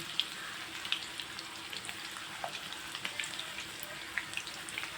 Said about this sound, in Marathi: डायरेक्ट त्याच्यामध्ये तेलामध्ये खिसायचे आहे।